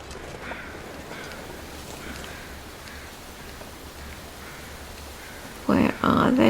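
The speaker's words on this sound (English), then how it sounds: "And why are the birds making so much noise here?" Birds chatter and call intermittently in the snowy wilderness of the survival game The Long Dark, faint cries over a windy background, with a person talking near the end.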